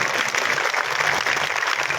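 An audience in Ayodhya claps steadily to welcome visitors from other districts at a crowded public gathering, a dense, continuous wash of applause with no pause across the moment.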